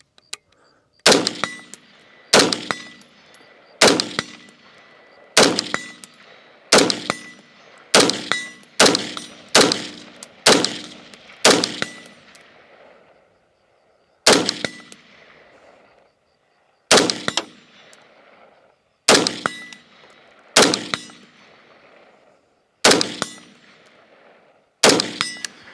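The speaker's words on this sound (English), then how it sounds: "I got a target set up at 100 yards, and I'm just gonna plank off some rounds" An MCX-R rifle fires single shots spaced by pauses at a steel target about 100 yards away, each loud crack followed by a ringing clang and a fading echo; about seventeen shots, some in quick pairs, with no talk.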